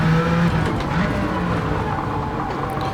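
A 1992 Jaguar XJ220 engine drones steadily from inside the cabin in Gran Turismo 7 at Trial Mountain, a low, rough hum with no voices.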